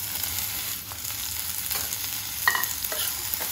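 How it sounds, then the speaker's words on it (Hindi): Onions and vegetables frying in a pan, heard as a continuous close sizzle with a few sharper spatters and stirring scrapes toward the end, with no one talking. "प्याज को हम भून लेंगे, प्याज को हमें लाल नहीं करना है। अब इसी में हम ये सारी सब्जी डाल देंगे।"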